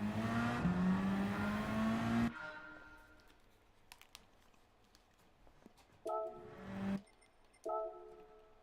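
A Peugeot engine in Gran Turismo 7 revs up loud and climbing for about two seconds, then cuts out, leaving faint clicks before two more short bursts of revving near the end.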